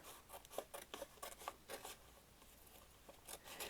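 Scissors snip through a magazine page for a creative journal, a quiet series of short crisp cuts and paper rustles in irregular bursts, close up, with no voices.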